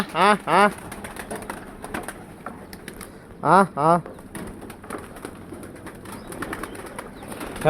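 Lotan pigeons coo in short bursts, two near the start and two more midway, with softer background murmur between them.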